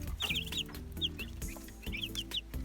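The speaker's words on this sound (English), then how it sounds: "There's the chickens." Chickens in a small farm enclosure cluck in short, bright bursts, with several birds calling in quick irregular clusters. The clucking is faint and close, with no speech.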